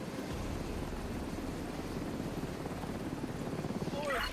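A video game helicopter thrums with a steady rapid rotor chop, close and continuous throughout, under faint voices and a brief rising electronic tone at the end.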